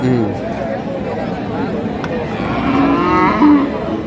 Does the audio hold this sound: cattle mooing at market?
yes